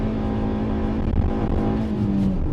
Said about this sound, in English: bit of a 0 to 60 test, sport mode activated. Oh, a lot of wheel spin.